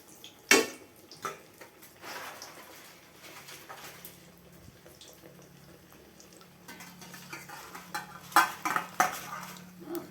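A wok, a spatula and a pot clatter while jackfruit cooks, with several sharp metallic clanks and scrapes spaced irregularly over soft background noise, near and moderately loud.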